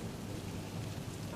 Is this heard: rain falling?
yes